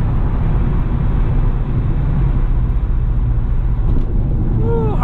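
A C5 Corvette driving hard through corners, with a steady, loud engine drone and road roar that holds without a break for five seconds and no talk.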